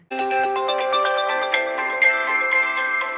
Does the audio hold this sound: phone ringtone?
yes